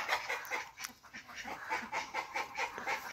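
A hen clucking and squawking after laying an egg, in a steady, agitated stream, fairly close, with outdoor noise around it.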